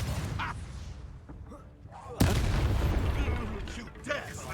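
A Confringo spell goes off in Hogwarts Legacy: a sudden loud, booming blast about halfway through, its rumble trailing off over game noise, with voices heard around it.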